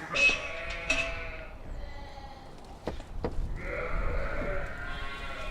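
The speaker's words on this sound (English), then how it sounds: "I have a family small holding with about 100 ewes" Ewes bleat on a family smallholding with a flock of about 100, several loud, wavering calls from nearby overlapping one another, with quieter farmyard background in between.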